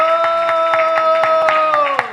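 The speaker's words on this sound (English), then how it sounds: "And everybody please give a good round of applause." Audience at an ISKCON St. Louis 50th anniversary celebration applauding steadily, the clapping close and continuous with a sustained tone and some voices running underneath.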